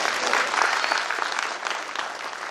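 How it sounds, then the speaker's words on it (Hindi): Sustained applause from an audience at a company founder's seminar, steady dense clapping filling the whole stretch with no speech over it. "ताली बजनी चाहिए ना।"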